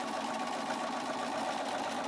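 A sewing machine stitching fabric in free-motion sewing, giving a continuous, even mechanical whir at moderate level, heard alone.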